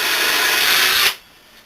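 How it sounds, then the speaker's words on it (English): A Forstner bit bores through a 1.5-inch-thick wooden tabletop, giving a steady, close grinding rasp for about a second before it cuts off abruptly into near silence. "I love these Forstner bits."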